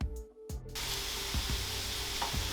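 Thin pork slices sear in a hot pan. After a brief quiet start, a strong sizzle swells in and holds as a constant loud hiss, with a few soft low knocks from the pan beneath it.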